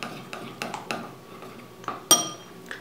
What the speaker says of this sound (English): So I can stir each of these.